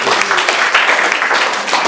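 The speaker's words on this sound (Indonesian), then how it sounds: "Tepuk tangan untuk Tuhan Yesus" Brief, loud applause from a church congregation at an anniversary service, dense clapping filling the room for about two seconds.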